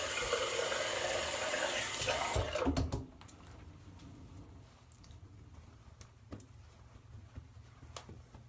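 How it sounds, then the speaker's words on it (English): A bathroom sink tap runs loudly for a cold-water rinse after shaving, then shuts off; small drips, taps and handling noises follow at close range, with no speech. "So I will do my cold water rinse"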